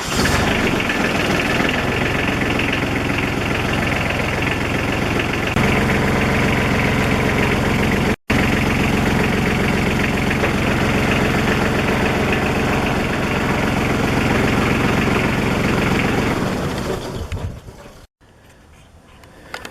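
A John Deere 4100 compact tractor idles with a steady, loud diesel chug and a slight knocking vibration before the engine note cuts out near the end.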